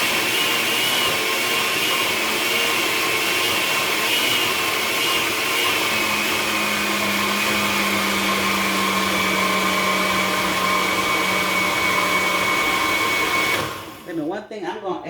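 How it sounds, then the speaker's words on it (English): A blender blending beans whirs steadily at high speed for a long stretch, loud and close, then cuts off abruptly near the end. "Let me find the top for this blender, okay? And then let's blend it up."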